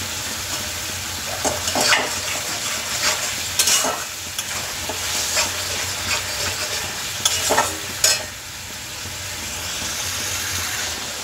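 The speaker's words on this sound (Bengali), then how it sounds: "তো দেখুন সর্ষে পোস্ত বাটাটা এরমভাবে কষিয়ে পুরো তেল ছেড়ে দিয়েছে" Mustard-poppy paste with plenty of green chillies stir-frying in oil until the oil separates, a continuous close sizzle broken by repeated spoon scrapes and stirring clatter against the pan.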